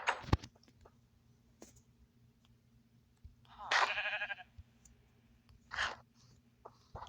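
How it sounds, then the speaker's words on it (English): Baby brown sheep in the blocky sandbox game Lokicraft, giving short, thin bleats: one longer wavering call in the middle and a brief one near the end, over quiet background hum, with faint clicks early on. "Oh, we got a little brown sheep."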